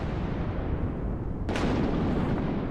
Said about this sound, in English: I'm pretty sure the explosions we're hearing now are thunder and lightning